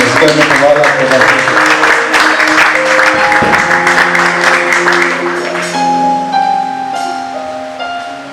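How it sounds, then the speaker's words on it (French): Audience at a Bible institute graduation ceremony applauds a graduate receiving a diploma, steady broad clapping with sustained tonal music underneath that becomes more prominent as the clapping fades toward the end. "Est-ce que nous pouvons l'applaudir?"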